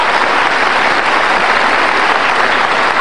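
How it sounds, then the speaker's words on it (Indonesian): An audience at a political talk show bursts into loud, sustained applause, a dense wall of clapping that stays steady and close throughout. "Oke, kita kasih tepuk tangan."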